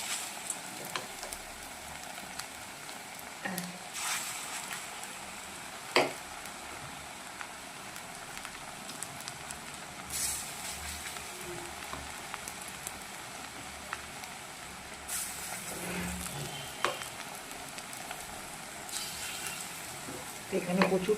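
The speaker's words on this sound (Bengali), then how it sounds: "পেঁয়াজি করছি সকালবেলায়।" Onion fritters (pakoras) sizzle and crackle in hot oil throughout, a soft steady frying hiss with occasional louder pops, while someone talks over it.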